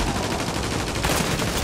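Rapid sniper and automatic gunfire in a video game, a dense, loud continuous volley of shots with no pauses.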